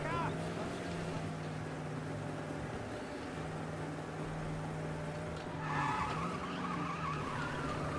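Car swerving and skidding in the Mafia: Definitive Edition video game, with a steady engine drone and tire noise and a louder skid toward the end, under a voice talking.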